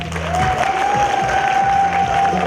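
Audience applause at a university master's programme evening, a steady wash of clapping from a crowded hall holding at an even level throughout, with a faint sustained tone running through it.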